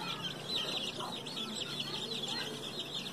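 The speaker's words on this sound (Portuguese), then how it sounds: "Essas duas galinhas, porque ela tava com os pintinhos." Chickens clucking in a henhouse on a rural farm, soft continuous clucks and chirpy calls at moderate distance, alone without talk.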